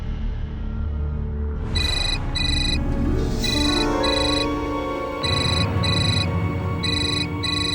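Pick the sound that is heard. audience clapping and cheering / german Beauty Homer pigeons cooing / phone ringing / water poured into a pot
phone ringing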